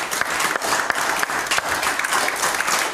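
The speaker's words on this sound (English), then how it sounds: "Give the Lord a hand clap." A church congregation claps their hands during a worship service, giving a loud, continuous burst of crowd applause with crisp individual claps, lasting about three seconds.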